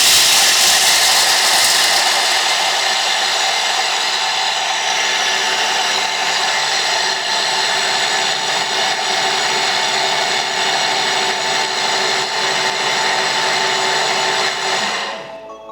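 A Thermomix blender whirring at speed 7 while making peanut butter ice cream, a loud, steady broadband roar that holds for about fifteen seconds before cutting off abruptly, with no voices.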